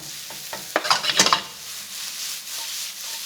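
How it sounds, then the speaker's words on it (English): Sliced onion drops into a pan of garlic in olive oil with a short clatter of utensils, and a steady, moderate sizzle follows with no talking. "In with the onion."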